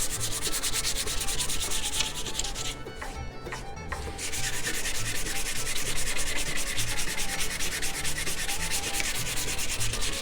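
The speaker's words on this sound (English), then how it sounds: "we're scraped, we're sanded, we got all that varnish off of there" Sandpaper, 150 grit, rubs steadily back and forth over a wooden hatchet handle to strip off old varnish, a close, continuous scratchy sanding with only a brief lighter pause partway through.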